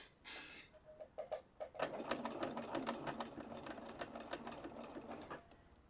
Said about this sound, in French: Et on va coudre comme ça tout du long jusqu'à la fin de l'ouverture.